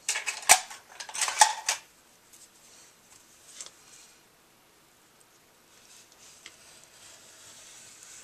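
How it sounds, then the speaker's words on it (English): A craft knife trims overhanging material from a magnet board, giving a few sharp, close scraping cuts in the first two seconds, then sparse faint scratches and near quiet. "I'm going to use a craft knife"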